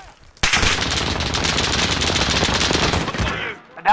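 Sustained automatic gunfire from a Call of Duty: Modern Warfare match, a dense, loud run of rapid shots lasting about three seconds after a brief quiet lead-in, then cutting off.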